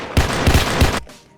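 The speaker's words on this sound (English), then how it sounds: "you can hear gunshots" Gunfire from a video game teaser: three loud, punchy shots spaced about a third of a second apart, each with a booming low thump, then a quick tail of echo.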